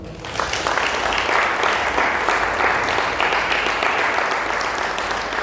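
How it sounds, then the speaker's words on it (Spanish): A congregation at a church training event applauds for Christ. The clapping is loud and dense and stays steady from start to finish with no voices over it. "Pero un aplauso a Cristo"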